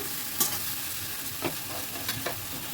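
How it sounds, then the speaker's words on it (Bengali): Fish coated in spices frying on high flame with a steady, fairly quiet sizzle, broken by a few soft scrapes of a stirring spoon against the pan. Nobody speaks. "একেবারে হাই ফ্লেমে আছে অনবরত কিন্তু নাড়তে হবে মিনিটখানেক"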